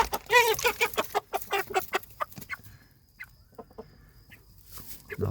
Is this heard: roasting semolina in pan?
no